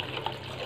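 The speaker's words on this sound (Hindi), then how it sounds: "सो यहाँ पे अभी करंट में 7 लीटर पानी आ रहा है पर मिनट" Water pours from a tap into a wash basin at about 7 litres per minute, a steady close rushing flow with no pauses, heard alone.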